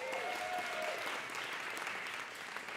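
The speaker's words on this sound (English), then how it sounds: "One more round of applause." An audience at a live storytelling event in downtown Los Angeles applauds steadily, a dense wash of clapping that holds at full strength throughout.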